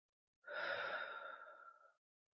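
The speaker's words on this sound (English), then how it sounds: "Exhale for 4 seconds." One slow, steady exhale during a box-breathing exercise for stress relief, a soft airy breath lasting about a second and a half, close and alone against silence.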